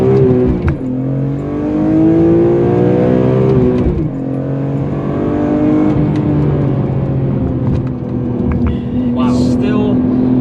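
A car with an SMG gearbox in its aggressive mode accelerates hard, the engine climbing in pitch through several gear changes, loud and close, with people talking over it.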